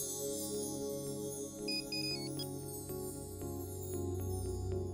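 A phone ringtone plays steadily for several seconds, a repeating electronic melody with short chirping tones and regular pulses over a low background hum, with no talking.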